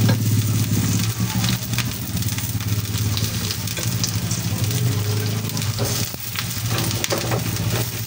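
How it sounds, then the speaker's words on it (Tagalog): Sautéing of ingredients in a pan for Bicol Express with tambakol, a steady sizzle that runs the whole time at close range, with faint stirring clatter and no talk. "At pagkatapos nito ay magigisa na tayo ng ating sahog."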